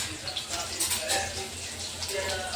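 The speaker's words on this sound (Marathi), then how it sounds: "त्याच्यामध्ये आता मी लसूण टाकत आहे." Garlic sizzles and fries in hot oil in a pan while white beans are being cooked, giving a steady crackling hiss with light stirring and utensil clinks throughout.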